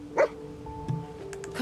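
A dog's single short bark in Fallout 4, close and fairly loud near the start, followed by quieter game ambience and a faint low yelp or whine later on.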